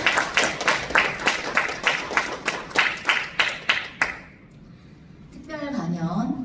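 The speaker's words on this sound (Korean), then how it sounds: "박수 부탁드립니다." An audience claps at a peace and unification forum in a small conference room of the National Assembly members' office building, the applause falling into a loud, steady rhythmic beat for about four seconds before dying away as a voice begins.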